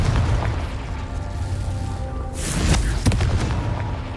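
Confringo blast spell cast in the Hogwarts Legacy video game near a castle, a dense booming burst that swells around the middle with a sharp crack after, over a steady rumbling game backdrop.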